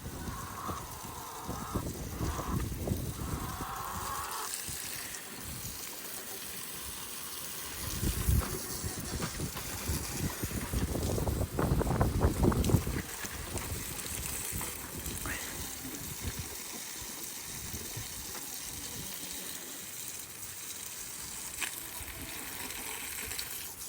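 A garden water hose sprays and soaks a backyard compost pile made partly of woody material. Gushing and splashing rise and fall, strongest in a few bursts midway, with stretches of quieter trickling.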